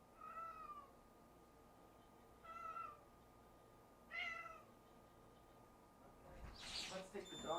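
A cat gives three clear meows spaced a couple of seconds apart, close by and fairly quiet indoors, followed by a brief rustling clatter at the end.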